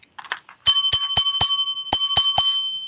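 A bell from a Loop Loop board game rings sharply seven times in two quick groups, bright and close, after some faint rustling.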